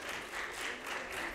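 A stand-up comedy contest crowd claps in a brief, steady burst of moderate loudness, the applause spread evenly without any talk over it.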